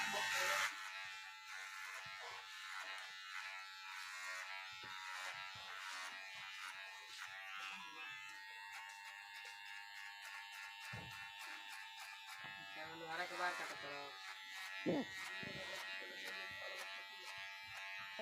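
An electric hair trimmer cuts a customer's hair, its steady buzzing hum running continuously at close range with small changes as it moves over the head.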